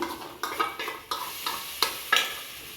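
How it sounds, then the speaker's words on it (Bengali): A mustard spice paste with ginger for hilsa curry is sautéed in a pan, with repeated scraping stirs and soft clinks of a spoon against metal over a gentle sizzle. "এই মশলাটা দিয়ে দিলাম বন্ধুরা কষিয়ে নেবো"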